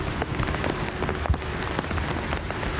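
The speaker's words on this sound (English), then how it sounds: "The rain picking up pace." Rain falls steadily at an outdoor national ceremony, a dense continuous patter with scattered sharper drops and no voices.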